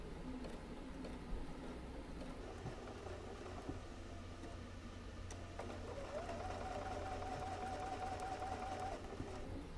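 A quilter's sewing machine stitches fabric pieces along a scant quarter-inch seam from a corner, a low steady hum close by that rises into a faster whir partway through, with no voices.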